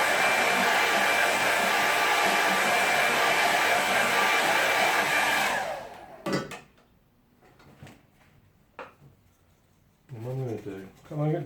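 A hair dryer blows loudly and continuously for a quick pass over a watercolour painting, then cuts off, followed by a few soft clicks and knocks from brushes and pots at close range.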